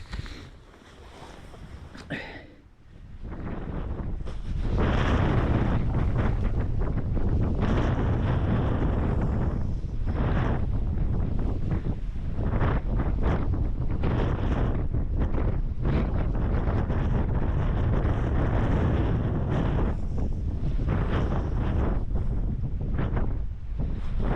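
Strong gusting wind buffets the microphone on a river bank during salmon fishing, a loud, continuous roar that drowns everything else after a brief quieter start.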